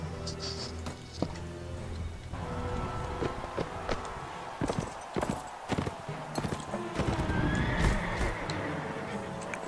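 Horse neighing and clip-clopping hooves in the Mount & Blade Warband game, with a whinny near the end over continuous battle noise, clashes and scattered thuds.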